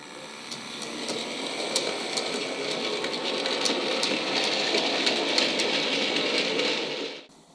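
A Hornby R3484 BR Class 08 model locomotive runs along its track with a steady whirring motor and fine rail rattle plus light regular clicks at the rail joints, holding an even level before it cuts off abruptly at the end.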